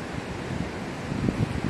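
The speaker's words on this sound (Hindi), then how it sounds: "ये कल कल की आवाज़ आ रही है पानी के चलने की।" Water of the Ganga canal at Haridwar rushes past in a steady, broad, continuous roar, with some wind noise on the microphone and a slightly louder surge toward the end.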